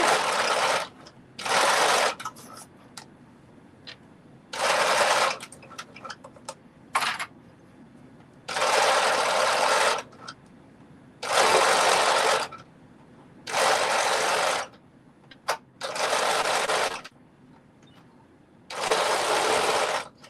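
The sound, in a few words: sewing machine stitching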